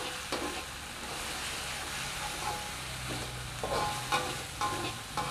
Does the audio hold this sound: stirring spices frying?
yes